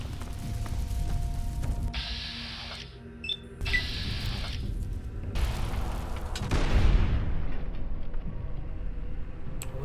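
A grenade goes off in Fallout 3, a single muffled boom rising out of steady game ambience and mechanical clicks and beeps, then fading slowly.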